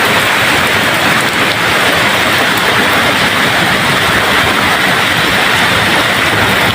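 Heavy rain driven by a strong windstorm, a loud, dense, unbroken roar of downpour hitting surfaces from start to finish.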